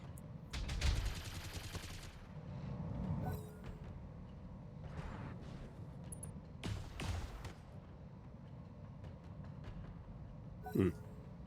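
Turrets in the BattleTech game open fire in scattered bursts of gunfire and heavy thuds, some loud and close, others fainter, separated by quieter mechanical stretches and spaced through the scene.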